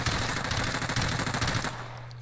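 Rapid automatic gunfire in Call of Duty Warzone, a loud dense burst of shots lasting about two seconds before it cuts off to a lingering hum.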